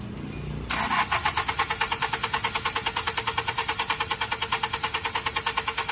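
A Hyundai Accent CRDI diesel with a hard-starting fault cranks on and on, its starter giving a fast, even, loud churning rhythm that begins abruptly and never catches within the clip.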